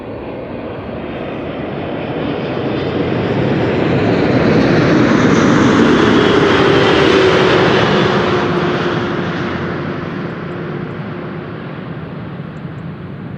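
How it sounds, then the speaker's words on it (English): Qatar Boeing 777 freighter arriving at Amsterdam Schiphol, a loud roaring jet that swells as it approaches and passes overhead, then slowly fades away. "777 freighter."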